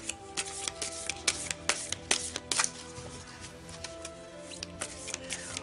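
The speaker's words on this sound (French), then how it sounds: "alors tu peux tirer une carte" Tarot cards being shuffled and drawn: a steady run of quick, close papery riffles and flicks, with crisp card snaps standing out, heard alone without talk.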